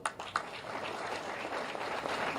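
An audience at an event in Lucknow breaks into loud, steady applause, dense clapping filling the room evenly for the whole stretch without letting up.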